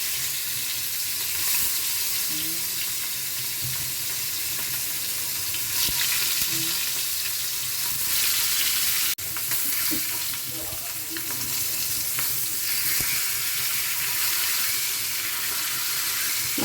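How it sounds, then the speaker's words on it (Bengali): Fish frying lightly in hot oil in a pan, a steady close sizzle and crackle running throughout, with brief clatter near the middle and no talking. "তেল গরম হয়ে গেছে এবার মাছগুলো একটু ভেজে নেবো আমি হালকা ভাজবে"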